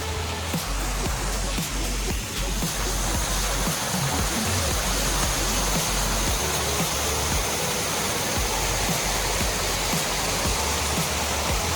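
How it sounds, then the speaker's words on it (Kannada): A small waterfall rushes steadily, a constant broad roar of flowing water close at hand with no pauses. "ಇಲ್ಲಿ ಇನ್ನೇನು ನೀರು ಹರಿಯೋ ಕಡೆ ಬಂದ್ವಿ ಸಣ್ಣ ಫಾಲ್ಸ್ ಇದೆಯಲ್ಲ"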